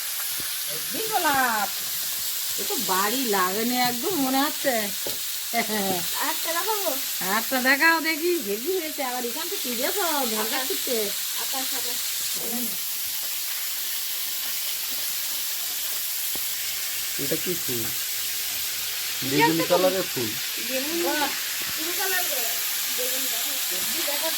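Prawns fry in a wok with a steady, hissing sizzle throughout, while people talk over it for most of the stretch, with a pause in the conversation midway.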